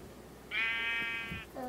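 A sheep bleats in a video game: one sustained, wavering cry of about a second, followed by the start of a second bleat, heard over a faint background.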